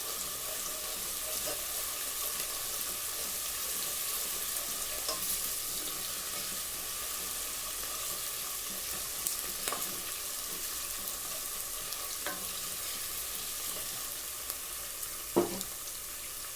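Ginger garlic paste fries in hot oil for an okra and potato curry, a low steady sizzling hiss with a few faint clinks from a pan, heard alone without talk.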